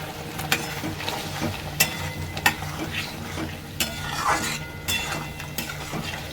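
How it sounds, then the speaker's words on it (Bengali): Cauliflower and potatoes go into a hot pan and are stirred, a continuous sizzle under repeated sharp clinks and scrapes of a spatula against the metal. "আমি কফিগুলো আর আলুগুলো দিয়ে দিচ্ছি।"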